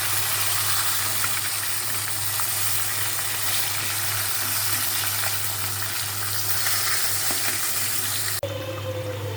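Vegetable curry cooking in a pan at home, an even, continuous sizzle and bubbling heard close, with a steady low hum underneath and a sharp knock near the end.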